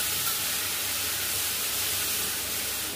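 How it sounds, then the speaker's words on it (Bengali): Masala frying in a pan with a little water for chicken biryani, giving a continuous, even hiss of sizzling steam throughout. "মশলাটা আরেকটু জল দিয়ে কষে নেবো।"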